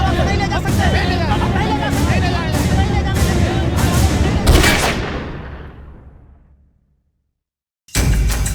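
Several loud sharp gunshots fired into the air in a TV crime drama ring out over a noisy crowd of shouting voices, then the scene drops to silence before voices return.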